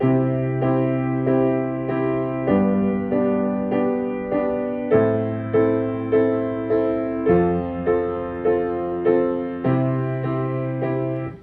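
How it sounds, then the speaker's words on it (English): Piano plays a slow progression of chords, each struck evenly with a deep bass note held underneath, about one chord every second. "let's add the left hand in. We're just gonna play whole bass notes of each chord."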